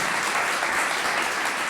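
A live podcast audience claps steadily, a dense, even wash of applause throughout the brief moment.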